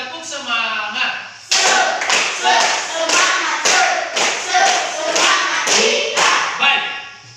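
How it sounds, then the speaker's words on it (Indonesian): Students in a morning classroom lesson stand and do a rhythmic spirit clap, sharp claps landing at a steady beat about twice a second, mixed with their voices chanting along. "Satu kali lagi, tepuk semangat."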